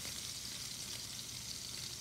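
Seared scallops finish cooking in hot oil with the burner turned off, a soft, even, faint sizzle that hisses steadily without breaks.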